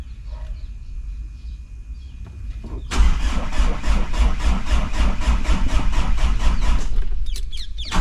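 An engine that is hard to start cranks briefly, then catches and runs with a loud, rapid, rough rhythm for several seconds before dropping away, close by.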